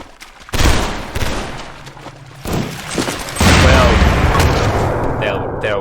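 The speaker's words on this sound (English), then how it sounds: "there was the grenade" Frag grenade blast and gunfire in a shooter video game test map, a sharp explosion followed by a loud sustained burst of rapid shots and booms, up close.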